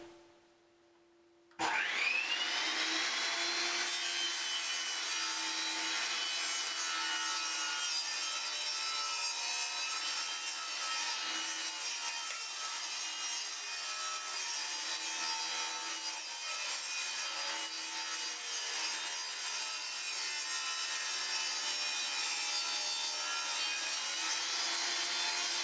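A pallet board is fed through a power saw on a taper jointer jig sled. After a brief quiet start it becomes a loud, steady whining cut that holds evenly for over twenty seconds, close by and with no talking.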